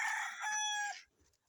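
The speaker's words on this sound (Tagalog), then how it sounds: "So ito yung mga nakatali na manok." A rooster among tethered chickens gives one loud, close crow lasting about a second before fading into quiet farmyard background.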